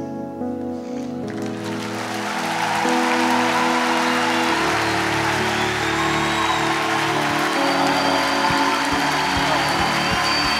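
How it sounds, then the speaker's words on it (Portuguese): A church congress audience rises in a standing ovation: after a few seconds of sustained tones, a broad wash of clapping and crowd noise swells and holds steady, loud and continuous to the end. "Nós aplaudimos de pé"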